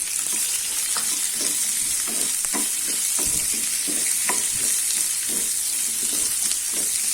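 Large onions sizzle in a pan for Chettinad-style kara chutney, a steady frying hiss broken by repeated scraping and tapping strokes of a stirring spoon, close and without talk.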